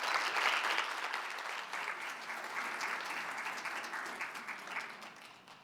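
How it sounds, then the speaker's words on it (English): Audience applause after a career networking skill-building presentation, a steady, dense wash of many hands clapping that holds loud throughout and fades slightly at the end, with no voices. "let's give Jackie another big round of applause for this amazing presentation."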